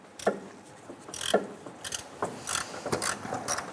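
A 10mm ratchet clicks in quick bursts while loosening bolts on a 1997-2006 Jeep Wrangler during harmonic balancer replacement, close and crisp with uneven pauses between strokes.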